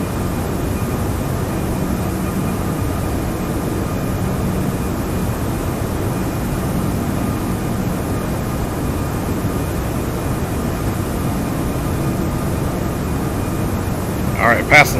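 An Airbus A340-600 climbs after departure in the X-Plane 12 simulator, giving a steady, even jet rumble and cabin hum that holds constant and fairly loud with no clear changes.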